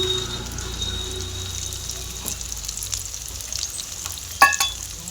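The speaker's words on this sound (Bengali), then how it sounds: "পেঁয়াজগুলো পুরো লাল লাল করে ভেজে নিতে হবে।" Roughly chopped onions sizzle and fry in a pan on the stove, a steady moderate crackle with a few sharper clinks of stirring near the end.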